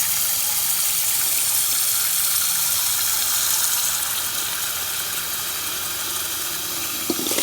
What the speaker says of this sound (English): And then add cold water to it.